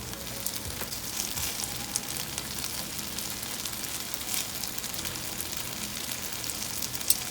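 Chicken pieces for teriyaki fry in a pan with a steady, dense sizzle and spitting oil, close and even throughout with a few small pops, no talking.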